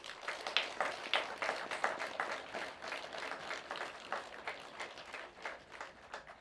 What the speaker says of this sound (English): So a big round of applause for our stewards there.